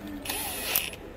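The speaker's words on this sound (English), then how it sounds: "Put it in the chuck" A Ryobi One+ HP PBLDD01 drill chuck is tightened on a half-inch bit, giving a brief ratcheting click and whir that is quiet and close, with no talking.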